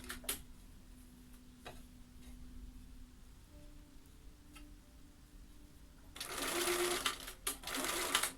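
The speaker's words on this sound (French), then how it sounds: "Je couds jusqu'à la limite de ma fente." A sewing machine runs a straight stitch along a 0.5 cm seam allowance up to the end of a slit, giving a quiet steady whir that becomes a loud, dense burst of stitching in the last couple of seconds.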